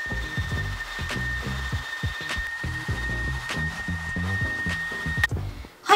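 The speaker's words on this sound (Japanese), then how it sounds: "ではドライヤーを当てて乾かしていきます。" A hair dryer blows steadily on hair that has had a smoothing product worked in. A constant whine and airflow runs with rhythmic brushing or rubbing strokes, then cuts off near the end.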